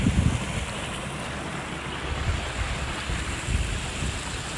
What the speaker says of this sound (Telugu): మా చెర్లకైతే నీళ్ళు వస్తున్నాయి